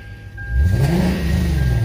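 A Lexus IS F engine sits quietly at first, then revs up with a louder, deeper exhaust roar from its opened dual-mode exhaust valves that rises and holds for about a second.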